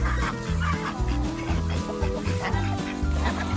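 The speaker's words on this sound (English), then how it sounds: "And this is Speckles, our speckled Sussex." Speckled Sussex hen clucking close by in a pasture, repeated short clucks over a busy background with other chickens, no talk.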